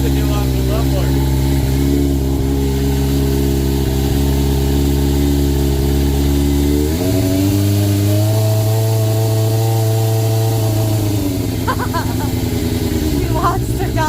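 A sportbike engine runs loud and close on its first start of the year, holding a steady idle before rising in revs, dropping back, then climbing again, with voices faintly underneath.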